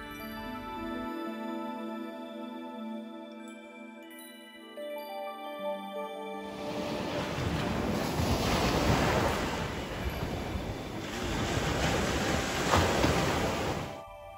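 Ocean waves break and wash in a broad, steady roar that swells twice, loud and near, with wind buffeting the microphone; quiet tonal music plays before the surf comes in.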